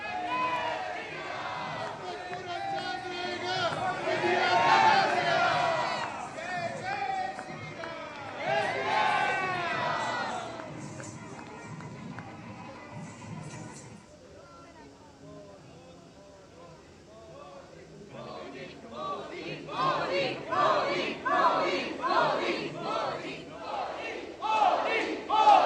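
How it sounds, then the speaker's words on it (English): Members of the Indian diaspora in Buenos Aires, Argentina, chant Bharat Mata Ki Jai and Modi Modi in loud rhythmic bursts that swell and fade, a dense crowd of voices with cheering throughout. "the enthusiastic crowd, who chanted Bharat Mata Ki Jai and Modi Modi to welcome him"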